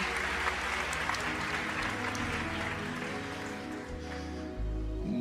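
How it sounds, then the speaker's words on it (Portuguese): A church congregation applauds with dense, steady clapping at moderate distance, sustained throughout with faint voices mixed underneath. "A igreja aplauda ao Senhor."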